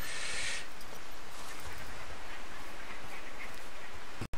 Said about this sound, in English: I can hear duck or something.